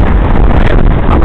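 Loud, blustery wind buffets the microphone in a dense, low rumbling roar.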